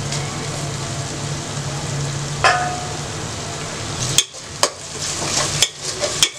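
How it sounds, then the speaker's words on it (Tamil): Steady close sizzling of mint and coriander sautéing in a pan for chicken biryani, followed by a few clattering stirs and scrapes near the end. "இது நல்லா வதங்கட்டும்."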